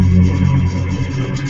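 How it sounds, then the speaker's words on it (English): A bass string bowed against the other bass strings of a Chapman stick in a demonstration, making a loud, dense, throbbing low drone that holds steady for about a second and a half. "we take a bass string and bow it on the other bass strings on the stick"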